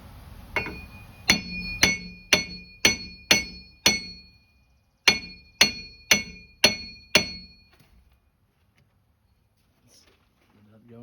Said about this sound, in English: I'm gonna give the axle a tap